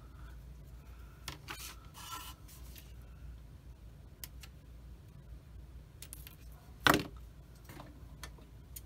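Small clicks and snips sound faintly up close as Tamiya 1/35 M2A2 Bradley plastic model parts are cut off the sprue, with scattered quiet scrapes and one sharper snap.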